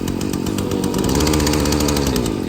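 A Husqvarna 243RJ string trimmer's small two-stroke engine runs close and loud at a steady high buzz, its pitch wavering slightly as the throttle shifts.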